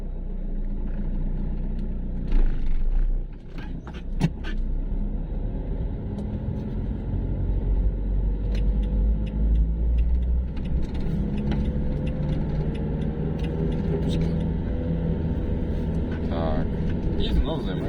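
A car moving along a road during a driving lesson: steady low engine and road rumble throughout, with an instructor talking over it.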